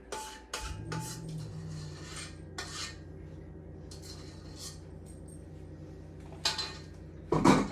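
A metal pan of peanut butter layer cake batter goes into a kitchen oven with a few close metallic clatters and scrapes, then a steady low oven hum and a last clink of metal.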